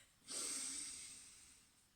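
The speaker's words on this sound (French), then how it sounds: "On inspire et on expire." A single close, airy breath drawn in sharply and then released slowly during a relaxation exercise, a soft hiss that fades over about a second and a half.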